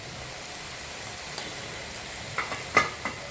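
Spinach paste and ginger garlic paste are stirred together in a pan for palak rice. A quiet, even hiss runs throughout, and a few light scraping stirs come toward the end.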